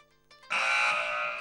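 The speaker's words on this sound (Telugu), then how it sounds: "గెస్ చేస్తే బజర్ నొక్కండి అంతే." A game show answer buzzer sounds once, a sudden loud, sustained electronic tone after a brief faint lead-in.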